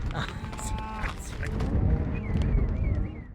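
Cattle low and moo on a snowy, wet Montana ranch during a cattle drive, several calls overlapping at mid distance amid constant outdoor rumble and horse movement.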